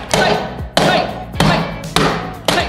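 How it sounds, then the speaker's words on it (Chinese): A hammer smashes hard toy golden eggs with five heavy, evenly spaced thuds, each blow ringing out briefly before the next lands. "这样我就不信一锤子解决不了它，随便敲。"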